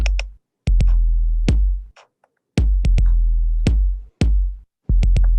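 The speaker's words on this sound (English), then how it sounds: "So you have your kick drum," Deep, punchy hip-hop drum machine kick drum hits, made in GarageBand, with booming low tails, played in a loose rhythm with short silences between, loud and dry.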